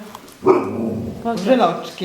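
A dog barks a couple of times close by, short sharp yaps that mix with people talking nearby.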